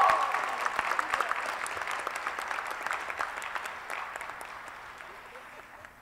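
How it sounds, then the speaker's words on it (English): Audience applause at a Martin Luther King Jr. commemoration after student award winners are named, a dense, steady round of clapping that gradually fades and thins out over several seconds. "can we give everybody a big round of applause again?"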